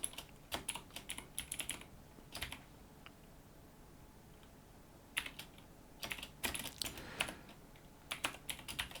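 Someone types on a computer keyboard with quick bursts of clicky keystrokes separated by pauses, recorded fairly faintly with steady room hum and no voices.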